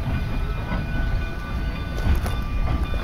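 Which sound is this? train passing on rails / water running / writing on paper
train passing on rails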